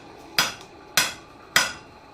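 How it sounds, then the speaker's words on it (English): Three sharp, ringing blacksmith hammer blows on hot metal at a forge, evenly spaced about half a second apart, close and loud with quiet between strikes. "So I'll let you hammer again."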